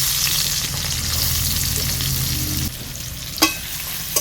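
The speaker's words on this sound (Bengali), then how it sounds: "এই তেলেই দিয়ে দিচ্ছি পেঁয়াজ কুচি।" Chopped onions hit hot oil in a pan of rohu fish curry, making a loud, dense sizzle that drops a little partway through, followed by a sharp clatter of a utensil against the pan.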